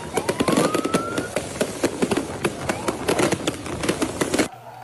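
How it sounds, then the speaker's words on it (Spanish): Fireworks outside Estadio Monumental in Guayaquil during a Barcelona fan celebration after a Copa Libertadores qualification, a rapid series of loud sharp pops and crackles with a rising whistle, over a noisy outdoor crowd background. "En los exteriores del Estadio Monumental se pudieron apreciar los juegos artificiales."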